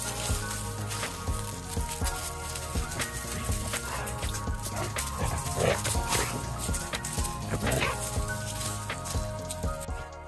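A dog plays and scampers about beside a 2021 Ford Class C motorhome under repair, with scuffling, light yips and movement noises over a steady background, and voices faintly in the mix.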